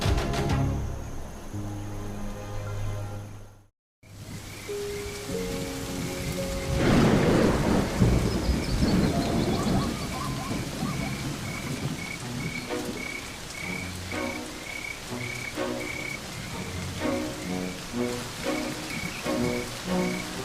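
Wild rainfall and a thunderstorm: heavy rain patters steadily while thunder rumbles in and rolls through, with chirping frogs and other creatures calling alongside, and a brief silent break near the start.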